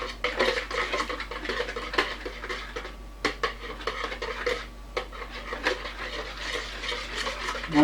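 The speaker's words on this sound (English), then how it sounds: "we're going to take our whisk inside of the bowl, which I'm going to set on the counter, and we're going to beat the eggs well" Eggs beaten with a whisk in a bowl set on a kitchen counter: a steady, fast scraping and clinking patter of wire against the bowl, continuous and close, with no speech.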